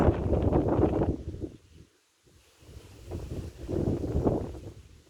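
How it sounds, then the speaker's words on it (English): Loud gusting wind outdoors in a dry garden in Oregon buffets the microphone in rumbling waves, dropping briefly to near quiet before surging back. "Wow, look how windy it is."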